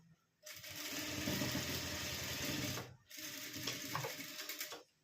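Sewing machine running close up, stitching right along the edge of a fabric square, in two steady motor bursts separated by a brief pause, with no talk.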